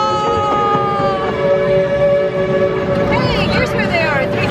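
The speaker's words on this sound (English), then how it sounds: "We made it on the Christmas train after" Christmas train ride at Hersheypark, a steady mechanical drone with a sustained whistle-like tone throughout, while people talk nearby.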